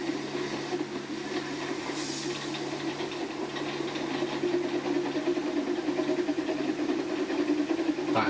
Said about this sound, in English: Those are really good puffing sounds.